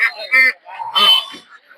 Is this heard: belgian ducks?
yes